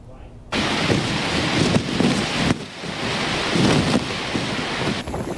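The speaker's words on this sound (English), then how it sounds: "Alberto's tropical storm force winds and heavy rain made an impact on South Padre Island" Tropical Storm Alberto's strong winds and heavy rain batter South Padre Island, a loud, roaring wash of gusts buffeting the microphone in surges, with brief drops between blasts.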